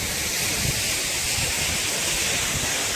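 Steady, loud roar of a waterfall on a mountain trek in the Pahadi region, a broad continuous wash of falling water with no breaks and no voices over it.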